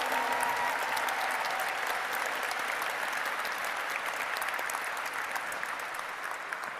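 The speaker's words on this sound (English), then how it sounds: "So a massive round of applause for them all." Sustained audience applause at a diversity awards ceremony, a loud, even roar of many hands clapping that continues without pause, tapering only slightly toward the end.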